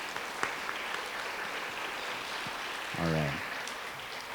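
A crowd at a Jones Elementary kindergarten celebration gives sustained applause for Miss Davis's kindergarten class. The dense clapping fills the room while a voice speaks briefly over it.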